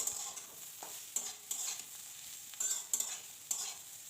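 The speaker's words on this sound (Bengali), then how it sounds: "নুন আর হলুদ গুঁড়ো দিয়ে আলুটা আরও একটু খুব ভালো করে ভাজা করে নেব" Potatoes and bitter gourd fry in a pan with salt and turmeric, giving a steady close sizzle broken every second or so by short scraping bursts of stirring.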